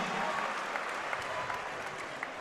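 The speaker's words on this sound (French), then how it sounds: "On peut l'applaudir très fort, s'il vous plaît." An audience applauds steadily through a savate (French kickboxing) final at an evening fight event, the dense clapping heard from a distance at moderate volume without a break.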